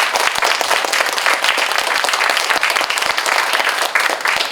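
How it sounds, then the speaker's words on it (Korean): An audience applauds after a lecture on the meaning and future of basic income, with dense, steady clapping from many hands that fills the room at full volume for several seconds. "정교순 교수님께 다시 한 번 박수 부탁드리겠습니다"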